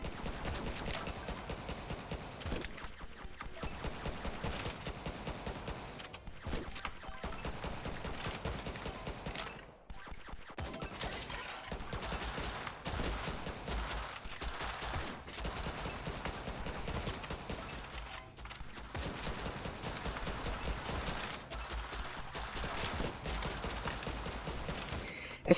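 Shotgun blasts in Yet Another Zombie Survivors, a zombie survival game: quiet, steady, rapid clattering shots repeating throughout against busy game effects, with no talk.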